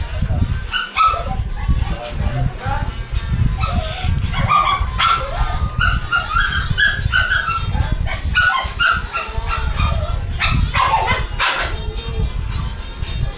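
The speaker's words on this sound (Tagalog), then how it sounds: "Pasensya na nila siyang aking aso guys. Nasa kulungan niya guys." A pet dog shut in its cage barks, yips and whimpers in a loud, near, restless string of calls, with a person talking over much of it.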